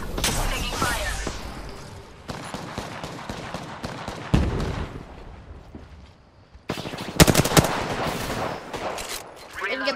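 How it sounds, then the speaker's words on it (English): Gunfire in the Apex Legends video game rattles in loud bursts of rapid shots with pauses between them, while in-game voice lines sound over the action. "Getting shot at."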